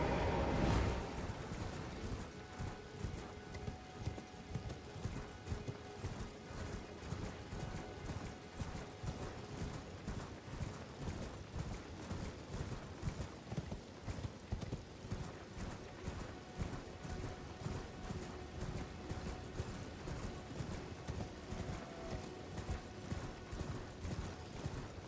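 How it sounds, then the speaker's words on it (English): A horse gallops in the Elden Ring video game, with steady rhythmic hoofbeats thudding for a long stretch at an even pace and some faint mechanical clatter underneath, with no talking. "Ride your horse into this beam and jump"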